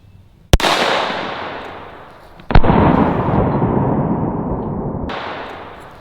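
Two sharp, loud CCI shotshell blasts fired at a target outdoors, a couple of seconds apart, each cracking close by and trailing off in a long rolling echo.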